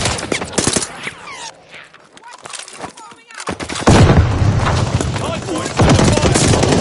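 Video game gunfire rattles in rapid bursts, sharp cracking shots with a brief lull before heavier, denser automatic fire resumes loudly, mixed with excited talking.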